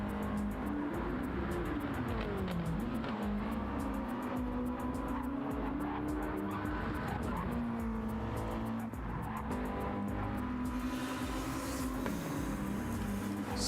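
Race cars lapping Monza in a racing video game, a continuous engine drone rising and falling with gear changes, with faint tyre squeal and other cars passing in the distance.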